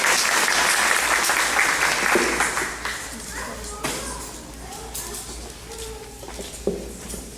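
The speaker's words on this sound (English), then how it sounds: "if you can give them a really big clap, please." An audience claps loudly for the children at a kindergarten graduation in Plano, starting dense and strong, then thinning into scattered claps under a voice speaking toward the end.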